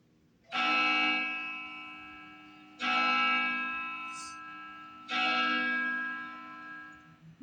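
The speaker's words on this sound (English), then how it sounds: "I hear loud bells echoing throughout the church upstairs" Church bells ring loudly in a large echoing church, three heavy strikes spaced about two seconds apart, each leaving a long, shimmering decay that hangs in the reverberant space.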